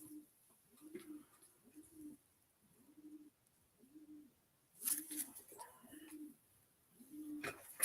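A Jansen racing pigeon hen coos softly in a steady series of low, rounded calls about a second apart, close by. Faint rustling and handling noises break in midway and again near the end.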